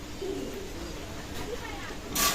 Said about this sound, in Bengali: অসাধারণ টেডি কবুতর আজকে দেখাচ্ছি